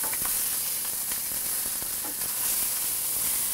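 Sausages brown in a pan as their fat renders, giving a steady, even sizzle with scattered small pops at a moderate, close level, no voices.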